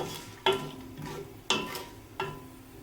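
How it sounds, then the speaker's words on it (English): Peanuts, chana dal lentils and mustard seeds stir frying in a pan, with three sharp scraping stir strokes about a second apart over a steady low sizzle, close and fairly quiet. "handful of peanuts, 1 teaspoon of chana dal lentils. Stir fry all these for 2 minutes."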